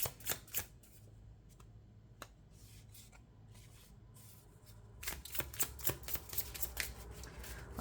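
A deck of cards is shuffled for a card reading, with brisk riffling bursts at the start, sparse softer handling in the middle, then a longer run of rapid riffles close to the microphone.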